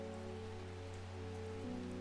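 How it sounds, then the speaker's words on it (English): Soft, steady rain patters continuously in the cozy ambience of the video game Strange Horticulture, a faint even hiss with a low background hum underneath and no speech. "I adore the rain sounds."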